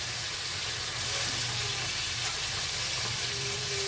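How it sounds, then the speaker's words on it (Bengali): Fish sizzle in hot oil in a home kitchen, a steady close hiss of frying that continues evenly for several seconds with a few faint pops and clinks. "মাছগুলো তেলে ছেড়েছি"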